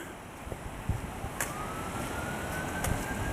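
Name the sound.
sirens on a city street in Montreal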